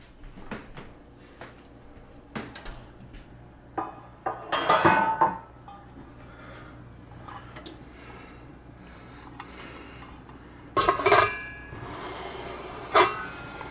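A metal lid clanks onto a pot of boiling BBQ chicken with leaf cactus and carrots, with two short clattering bursts separated by quiet kitchen background.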